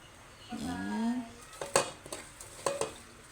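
A spoon stirs vegetable soup in a pot, with a scrape and then a few short clinks and knocks against the pot over a quiet kitchen background.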